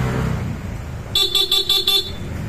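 A Bosch Europa car horn, fitted with a selector, honks in four or five short, loud, close blasts in quick rhythmic succession, after a stretch of low background rumble.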